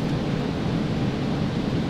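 Steady rumbling storm noise with rain in Microsoft Flight Simulator 2020 while flying a DC Designs Concorde, a continuous broadband roar at even loudness with no distinct thunder crack and no talk.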